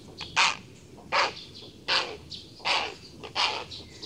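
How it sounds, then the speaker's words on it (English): Five evenly spaced harsh caws from a crow-like bird come about once every 0.75 seconds, loud and fairly close, over a quiet background. "Oh, it's a bird."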